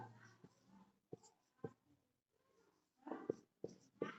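Chalk or a marker scrapes and taps on a board in short, scattered strokes, quiet and near, with no one speaking.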